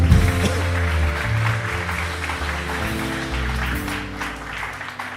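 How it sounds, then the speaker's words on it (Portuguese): A church audience applauds together, giving a steady wash of clapping from many hands that fades slightly toward the end, with a low hum of sound underneath. "Quem recebe isso, dá uma salva de palmas ao Senhor."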